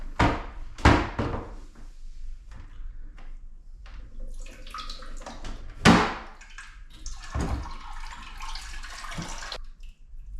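Water draining out of a toilet tank through an opened red valve, a gurgling, splashing flow with a few louder knocks and sloshes, fairly close and without talk.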